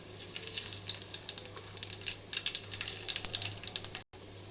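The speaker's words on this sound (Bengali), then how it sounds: "আমি এবার দুটো শুকনো লঙ্কাকে মাঝখান দিয়ে ফাটিয়ে দিয়ে দিলাম। আর দেবো একটু কালো জিরে।" Dried red chilies split in half and nigella seeds frying in hot mustard oil give a steady, close crackling sizzle with bright spitting pops, cut off by a brief silence near the end.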